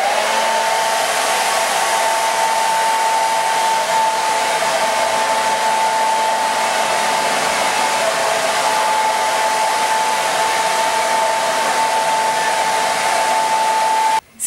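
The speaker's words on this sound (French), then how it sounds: "je me suis séché les cheveux" A hair dryer blows steadily and loudly while drying hair, a constant whooshing roar with a faint whine that holds throughout and cuts off abruptly at the very end.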